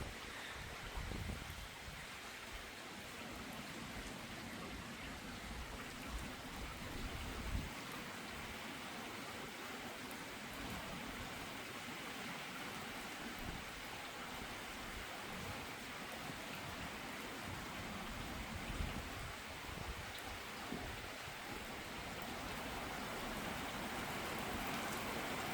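Heavy rain pours down steadily and loudly during a storm in Isère, France, a dense continuous downpour hissing across surfaces with no pauses.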